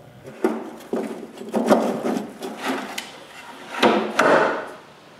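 A wooden shelf being fitted into an X-Carve machine enclosure gives a run of close knocks, taps and scraping wood-on-wood rubs in an irregular rhythm, with no voices.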